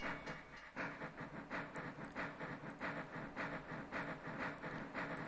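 Train running on rails in the OpenTTD video game, a steady rhythmic clickety-clack of wheels over rail joints with a faint hiss, repeating evenly and moderately loud with no talking.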